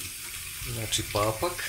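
A kitchen tap runs as pig's trotters are rinsed under the stream, a short splashing flow under a voice.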